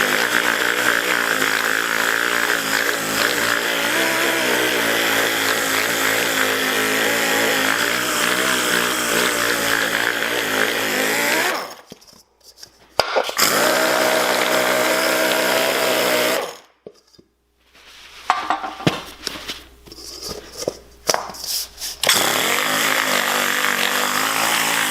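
A dual-action sander with 120 grit sandpaper works an aluminum surface, a loud continuous whirring grind that stops twice for a few seconds before restarting.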